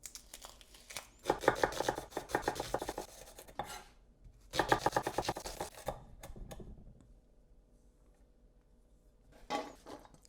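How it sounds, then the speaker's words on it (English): A knife finely chops an onion on a board in two long runs of quick, crisp taps, with a few shorter bursts between and after them. "just finely chop 1 onion"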